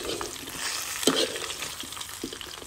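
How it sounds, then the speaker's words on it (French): Fish frying in hot oil in a pot, with a steady close crackle and hiss plus a few brief stirring clunks, no voices. "Je vais mettre ce poisson dans l'huile chaude"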